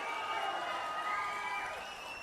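A crowd at an outdoor political rally claps and cheers together, a dense, steady roar of applause and voices that holds throughout and eases slightly at the end.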